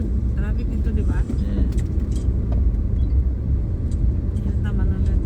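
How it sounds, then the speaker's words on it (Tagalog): Busy city road traffic in Davao City, with a steady low rumble of car and vehicle engines passing close by and continuous noise throughout, while people talk over it. "Traffic dito, di ba?"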